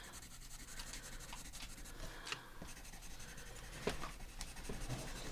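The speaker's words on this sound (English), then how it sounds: "So I'm going to color this out really fast." A Neocolor 2 crayon is scribbled quickly across black paper, giving a steady close-up scratchy rubbing with brief sharper strokes and taps over a soft background hiss, with no talking.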